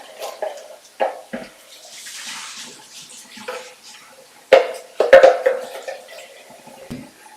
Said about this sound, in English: So we're just going to clean this blender,